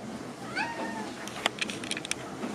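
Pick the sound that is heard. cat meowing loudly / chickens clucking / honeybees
cat meowing loudly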